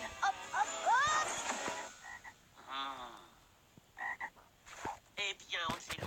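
A frog croaks several times in short bursts, close and fairly loud, with brief pauses between calls and no talk over it.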